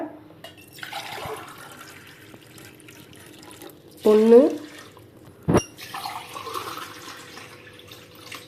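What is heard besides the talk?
water poured into pot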